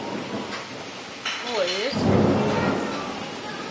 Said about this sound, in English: It's really raining outside, isn't it?